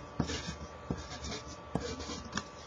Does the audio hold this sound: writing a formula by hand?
yes